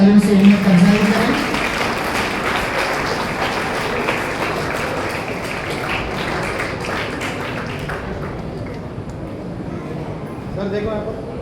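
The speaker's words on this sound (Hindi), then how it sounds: "जोरदार तालियों से इन्हें अफजाई करें" Audience applause in a hall at a Raichur awards event honouring a college topper, a dense spread of many hands clapping that holds steady for several seconds before thinning toward the end, with a voice briefly audible near the start.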